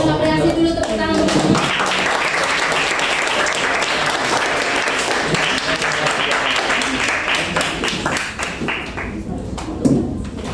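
A classroom of students applauds a presenting group, loud close clapping from many hands sustained for about ten seconds with some voices underneath.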